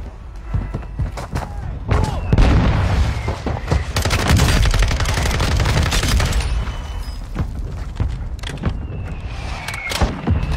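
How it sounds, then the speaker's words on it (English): Mortar strike explosions and gunfire in a shooter game, with dense, heavy booms and crackling shots in a continuous barrage close by, and faint voices now and then. "there's a mortar strike here"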